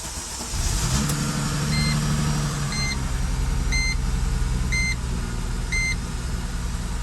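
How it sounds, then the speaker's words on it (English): An old collectible car in original condition idles steadily and smoothly, its engine a continuous close rumble throughout, with a few short repeated electronic beeps sounding alongside. "And the engine sounds great."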